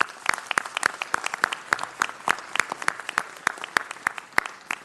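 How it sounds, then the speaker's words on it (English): A city council meeting audience claps for committee members, crisp individual handclaps close by in a loose, quick rhythm with sharp peaks, no talking over it. "A round of applause for them,"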